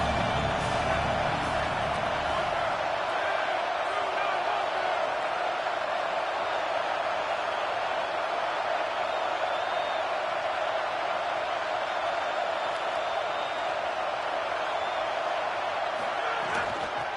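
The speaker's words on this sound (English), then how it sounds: "The Buckeye crowd alive on third down." Roaring stadium crowd in a college football video game, Ohio State Buckeyes home crowd on third down, a steady dense wash of cheering throughout with a game commentator's voice over it early on.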